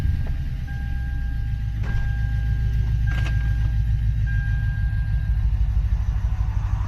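Cabin drone of a Lexus IS F fitted with PPE headers and a Joe Z exhaust, heard from inside the car: a steady, loud low rumble at idle or light throttle with a faint high whine, no talking.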